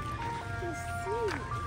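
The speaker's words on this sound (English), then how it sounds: "So we think it's an ice cream truck." An ice cream truck plays its tinkly jingle outdoors near a playground, thin melodic tones drifting from a distance over low traffic rumble while people talk nearby.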